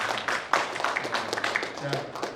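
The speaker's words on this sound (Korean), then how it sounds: "박수로 환영해 주시고." An audience at a conference opening ceremony claps to welcome a guest, a former Philippine tourism minister, with a dense patter of hand claps running under a speaker's voice.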